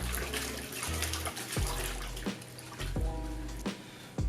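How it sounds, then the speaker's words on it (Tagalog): Water rinsing loosened dirt off a car during a wash, a running splashing stream broken by several short bursts and pours, fairly close, with no talking. "And then banlawan na lang natin para matanggal yung dumi na yun."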